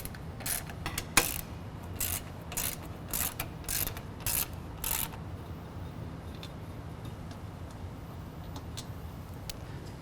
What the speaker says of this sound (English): Now take your 13mm socket